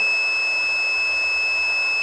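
A multimeter's continuity beep holds continuously at a high pitch, clean and unbroken, with no voices, while testing a PS4 Slim APU.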